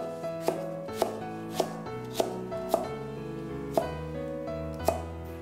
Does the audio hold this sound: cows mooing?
no